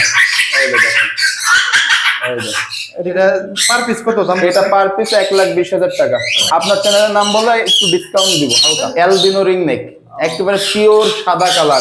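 Harsh squawks from tame pet birds at a bird farm burst out loudly, mixed in with a person talking steadily nearby.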